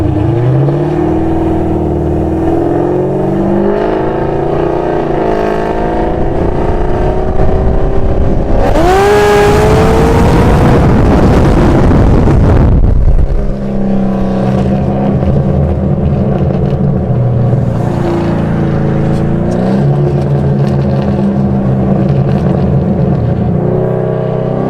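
A GPI-built 6th gen Camaro making 450 hp at the wheels idles with a deep rumble, then revs hard in a rising roar for a few seconds before dropping back to a loud, lumpy idle up close.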